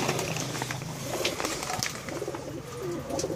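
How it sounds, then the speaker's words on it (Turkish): Pigeons coo on a rooftop feeding spot, where other birds also gather for feed; the low, rolling coos repeat several times against steady outdoor background noise. "Böyle, bunlar benim güvercinlerim."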